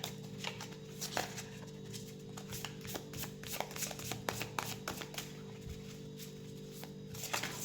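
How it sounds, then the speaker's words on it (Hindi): Tarot cards being shuffled by hand, a faint run of soft irregular riffling and tapping over a steady low hum, close and quiet. "Let's shuffle."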